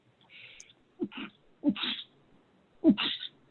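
A few short sneezes and sharp nasal bursts in quick succession, close and fairly quiet, with breathy gaps between them.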